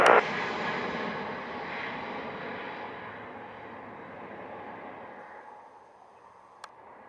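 A fixed-wing airliner takes off at Montego Bay airport in Jamaica, its jet roar loud at first and then slowly fading into the distance, with a faint click near the end and no voices.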